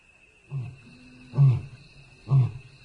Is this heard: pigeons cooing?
no